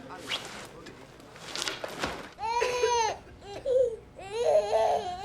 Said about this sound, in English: Sounds like the colic, Shannon. I hope that's all it is. She's been crying for hours.